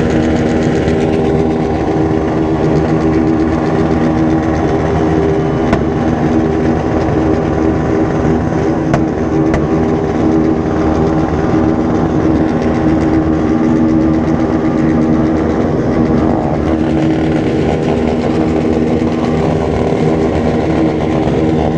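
A motorcycle with its exhaust pipe removed runs at a crowded bike meet, producing a loud, raw, unbroken engine drone that holds steady and close throughout without talk.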